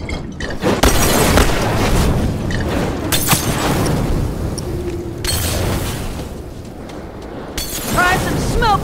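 A bomb explodes in The Last of Us Remastered, giving several loud, booming bursts with a shattering edge, separated by stretches of rumbling noise, while voices are heard.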